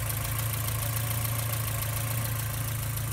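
A Porsche 944 Turbo engine idles in a steady, even hum with a strong low drone and constant broadband noise, close and unbroken throughout, with no voices; the headers are suspected of leaking.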